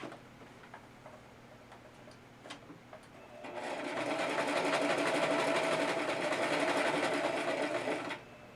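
A sewing machine stitches around the perimeter of a fabric piece. A few faint ticks come first, then a loud, steady, close motor whir runs for about five seconds and stops.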